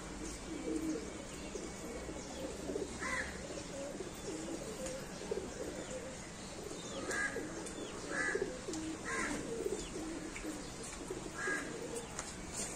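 Desi black pigeons cooing in a loft, soft low coos repeating every second or so over a steady hiss of background noise, with no talk.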